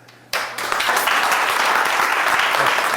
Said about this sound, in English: Let's give another round of applause to Anton and Dr. Johnson for their presentat